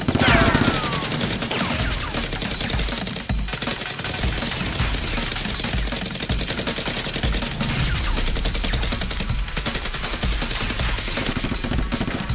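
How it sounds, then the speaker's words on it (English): Staged Nerf gun battle between a SWAT-style team and robbers, with dense, sustained rapid-fire shooting that stays loud and continuous throughout, like a heavy barrage of gunfire. "Seal X slowly circles around and shoots, killing the last robber."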